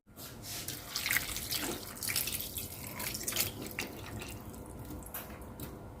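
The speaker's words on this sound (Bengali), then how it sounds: "এবার এর মধ্যে আমি 1/2 কাপ জল দেব।" Half a cup of water pours into a cooking pot in a home kitchen, a continuous splashing trickle lasting several seconds with no talking.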